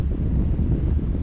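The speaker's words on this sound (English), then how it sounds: "Wow, it is windy. It is windy out here today." Strong wind on a cruise buffets the microphone with a low, rumbling roar, steady and loud throughout with no talking.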